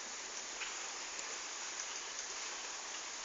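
A river stream flows nearby in a steady, even hiss of rushing water, faint and unbroken, with no voices over it.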